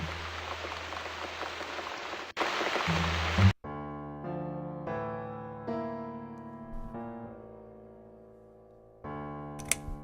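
Rain falls in a video game scene as a soft, steady hiss for a few seconds, then stops abruptly, giving way to quiet, tonal musical notes.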